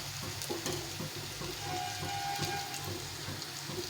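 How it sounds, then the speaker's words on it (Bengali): Onions fry in a pan for a spicy tengra fish curry, giving a soft steady sizzle with occasional stirring clinks and scrapes, fairly quiet and close, with no voices. "পেঁয়াজটা দিয়ে দেবো, পেঁয়াজটাকে একটু ভেজে নেবো"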